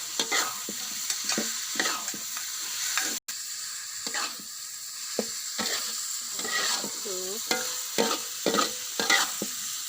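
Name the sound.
shrimp and leek being stir-fried with petai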